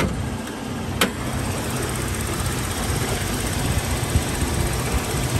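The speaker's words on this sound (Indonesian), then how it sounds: "Ini mesin nyala, AC nyala juga." A 2003 Toyota Kijang Kapsul LGX 1.8 engine idles steadily with the air conditioning on, a constant broadband whir of a running fan or compressor, close and even throughout, with one brief tick.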